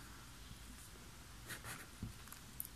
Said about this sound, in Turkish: Başka bir kalemle yazalım.